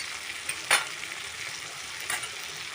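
A ground paste of onion, garlic, ginger, cumin and mustard goes into frying tomatoes in a pan, giving a steady close sizzle with two brief soft splats.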